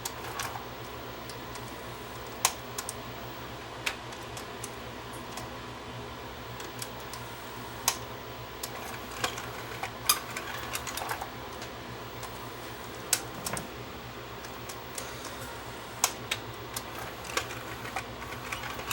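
A Fostex D5 DAT recorder with a faulty switch, its tape mechanism opening and closing by itself: faint irregular mechanical ticks and clicks over a low steady motor hum, close and quiet, with no speech.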